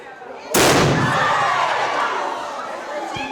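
A loud, sudden explosive boom like a cannon shot from igniting acetylene made from calcium carbide and water at a chemistry show, followed by a long rumbling, crackling decay with faint crowd chatter in the background.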